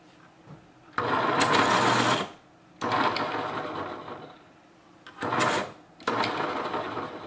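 A Westcott iPoint electric pencil sharpener grinds a pencil in four short, close bursts of buzzing whir, each lasting about a second, separated by brief quiet gaps.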